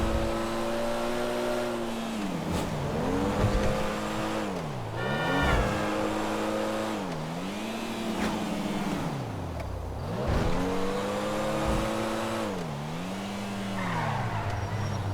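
A Pfister Comet Retro Custom car in GTA Online revs up through repeated gear changes, its loud engine pitch climbing and dropping in waves, with tire squeals mixed in and no talk.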